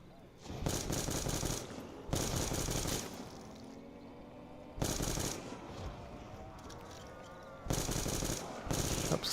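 Automatic gunfire from a heavy-recoil weapon in the video game Black Ops II sounds in four loud bursts of rapid shots, separated by quieter stretches of game ambience.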